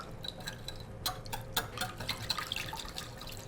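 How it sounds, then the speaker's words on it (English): A quick whisking of a glaze for carrots in a bowl, with light irregular clinks and ticks of the whisk against the bowl over a quiet, faint background. "So we'll just give this a quick whisk."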